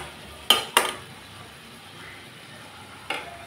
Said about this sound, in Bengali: এখন আলুগুলোকে পোস্তর সাথে ভালো করে কষিয়ে নেব।